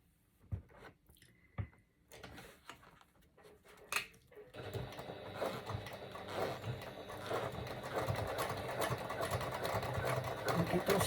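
After a few quiet clicks and handling noises, a sewing machine starts stitching a bag and runs in a steady, continuous mechanical hum that grows slightly louder toward the end.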